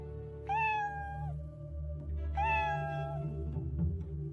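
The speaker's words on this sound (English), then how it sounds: ""Meow," A sound came from Heidi's pocket." Two drawn-out kitten meows, clear and close, over a steady low hum in the background.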